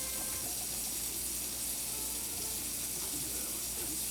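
A Moen kitchen faucet sprays water at maximum jet power into a sink, a steady, fairly faint broadband rush that holds evenly throughout.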